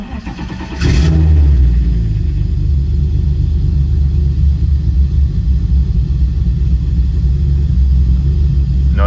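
A Nissan S13 car engine starts abruptly and then runs with a deep, loud, close rumble, holding a steady throaty idle with slight pulsing throughout.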